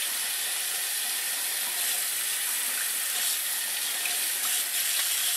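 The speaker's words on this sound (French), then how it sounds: "Que tout le matériel est bien rincé." Parts of an Eheim 2236 Ecco Pro aquarium filter are rinsed under a running tap, making a continuous, even rush of splashing water close by with no talking.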